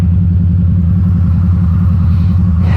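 A 2012 Harley-Davidson V-Rod Muscle 10th Anniversary motorcycle engine idles with a deep, steady, throbbing rumble, close and loud, running alone without speech.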